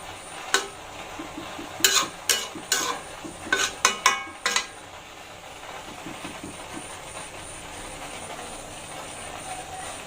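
Dal bora curry cooking in a pan, a spoon scraping and stirring in a run of sharp clacks and scrapes over a low sizzle, then quieter simmering.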